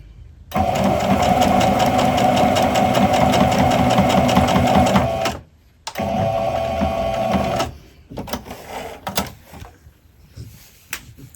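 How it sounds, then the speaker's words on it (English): Sewing machine stitching a Halloween pet bandana, running loud and steady for several seconds, pausing briefly, then stitching again before a few short, uneven bursts as it finishes with a back stitch. "I'm just going to stitch up to where I started, and then we can back stitch off and take it off the machine"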